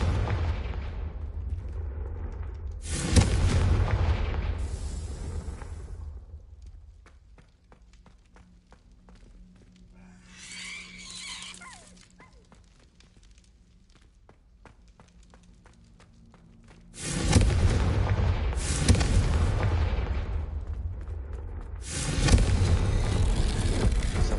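Fiery Confringo spell blasts in the Hogwarts Legacy game on PS5 boom loudly in several heavy bursts, separated by a quieter stretch of dim ambient corridor rumble, with no voices.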